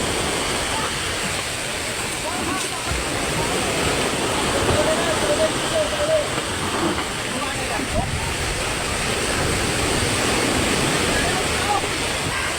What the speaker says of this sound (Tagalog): habang lumalaki ang high tide Ay talagang lumalakas ang alon